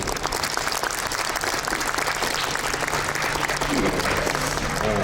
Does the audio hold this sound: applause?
yes